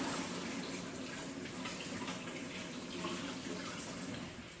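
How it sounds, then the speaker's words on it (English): Steady running tap water flows under a quick hand rinse in a kitchen sink, a soft continuous rush at moderate distance with no talking. "I'm just going to give my hands a quick rinse."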